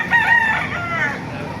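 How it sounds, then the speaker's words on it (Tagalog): A rooster crows once, close and clear, with faint background noise behind it, at a gamecock market in Baliuag, Bulacan. "Mga manok dito sa Baliwag,"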